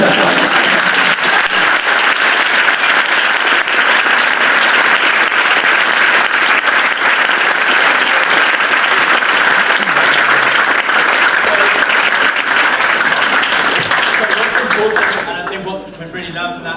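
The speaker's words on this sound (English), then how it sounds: "But let's give a big round of applause." Loud, dense applause for a speaker at an entrepreneurs conference in Nottingham, a full hall clapping steadily for a long stretch before dropping away abruptly near the end, where faint voices come through.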